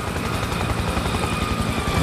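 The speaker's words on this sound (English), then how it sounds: "Incoming helo." Approaching helicopter in Spec Ops: The Line, a loud continuous rotor thrum with rhythmic blade chop and broad roar, steady and close throughout.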